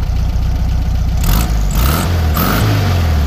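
A 1966 Volkswagen Beetle's air-cooled engine running close by, a loud steady idle that rises into two short revs and settles back.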